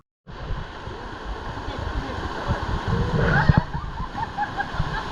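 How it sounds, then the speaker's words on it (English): Water splashing into a turquoise river among rocks at Kawasan Falls in the Philippines, a steady close rushing wash that swells midway, with brief vocal sounds over it. "With the beautiful rocks and water splashing into the turquoise river"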